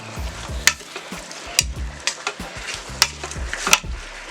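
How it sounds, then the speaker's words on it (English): Spiced beef tips sizzle in a pan while a utensil stirs them, giving a soft frying hiss broken by scraping strokes and several sharp clacks against the pan, close and unaccompanied by talk. "Alright, so we're going to stir this up a little bit."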